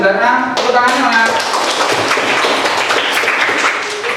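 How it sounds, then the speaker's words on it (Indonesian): A ninth-grade school class claps hands together in a classroom, a quick, close scatter of claps that starts just after a short stretch of speech and continues under chatter. "Tepuk tangan Mas."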